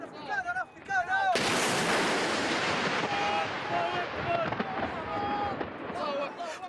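Artillery shelling and gunfire during fighting in Sirte, Libya: a sudden loud blast opens into sustained heavy rumbling and crackling shots, with a voice briefly audible at the start.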